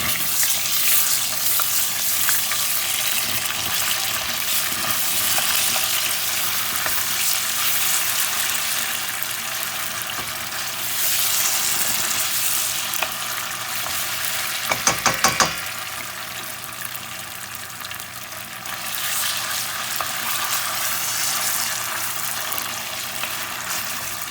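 Tomato puree fries in a pot for smoky jollof rice, giving a constant broad hiss and sizzle throughout. A brief clatter of stirring or knocks is heard near the middle, and no voices come through.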